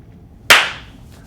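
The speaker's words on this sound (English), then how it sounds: "Oh, give me a clap." A single sharp hand clap rings out alone in a quiet interview room, a crisp close transient with a short decaying tail.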